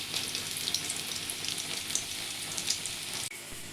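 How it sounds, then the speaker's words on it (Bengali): Fenugreek leaf fritters fry in hot oil, a continuous close crackling sizzle with fine popping like rain, steady throughout before a brief dip near the end. "এই যে এক পিঠ করে লাল হয়ে গেছে, এবার আরেক পিঠ করে আমি ভাজছি।"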